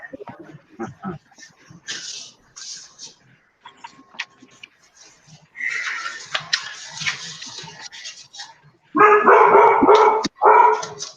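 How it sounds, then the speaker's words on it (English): A Chihuahua barks in short sharp bursts, some distant and scattered, then louder and closer near the end, with people talking over it. "Hey, sounds like my dog."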